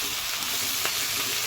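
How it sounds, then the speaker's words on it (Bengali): Onion and ginger frying in hot oil in a pan, a steady close sizzle with faint stirring, continuous and even throughout with no talking. "আদা আর পেঁয়াজটা দিয়ে দিয়েছি। একটু ভাজা ভাজা হোক"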